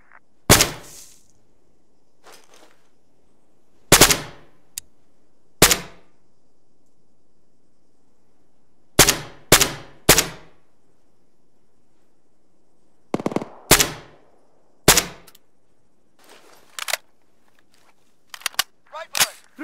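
Gunfire in the military shooter Arma 3, sharp isolated shots and short bursts cracking out at irregular intervals with near silence between them, loud and close, a quick cluster of rapid shots toward the end.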